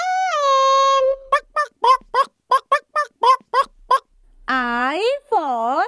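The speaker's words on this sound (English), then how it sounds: "H for hen." A hen clucks in a children's phonics song, first a long drawn-out call, then a rapid run of short, evenly spaced clucks and a final pair of wavering cries, loud and close with nothing else around them.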